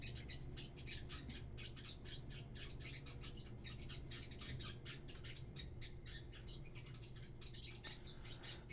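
Pet birds squawk and chirp in rapid, repeated bursts, a busy chatter that carries on without a break, heard alone at a moderate distance and fairly quiet.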